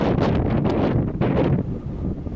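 Strong gusts buffet the microphone on an open trail in Theodore Roosevelt National Park's South Unit, a loud rough roar surging and dipping in uneven waves with no voices.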